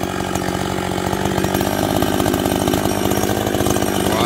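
A large chainsaw cuts through a tropical almond tree, running loud and close at high, steady revs with a harsh buzzing rattle and slight bogging as the chain bites the wood.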